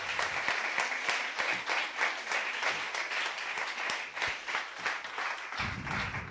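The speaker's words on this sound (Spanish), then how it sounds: "lo necesario es un aplauso para nuestros ponentes." Applause from an audience for the speakers at a Spanish-language panel talk, steady dense clapping filling the room for several seconds without voices.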